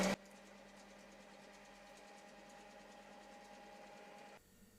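Electric mixer beating meringue with added starch at low speed, a steady mid-level motor whir with a faint hum running throughout and stopping just before the end.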